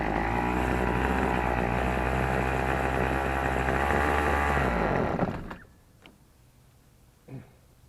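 A TroyBilt XP string trimmer engine with a dirty ZAMA C1U carburetor runs loud and steady at close range, then cuts out after about five seconds, leaving faint clicks and handling noises.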